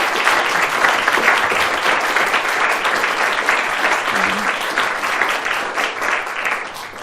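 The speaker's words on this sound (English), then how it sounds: "can we all just give Mr. Wolfson a big round of applause for talking to us" Loud, steady applause from a lecture audience fills the whole stretch, dense clapping that fades slightly toward the end.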